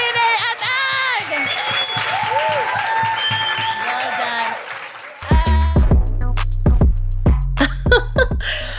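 A live podcast audience applauds the guests with cheers and high whoops for about five seconds, then music with heavy, punchy beats cuts in and takes over.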